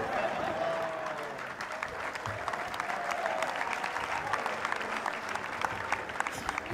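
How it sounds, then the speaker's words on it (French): Steady audience applause fills a French New Year comedy show, dense and sustained throughout with a faint tonal whistle or cheer rising over it. "Vous applaudissez aussi pour quelqu'un qui est prêt à mourir."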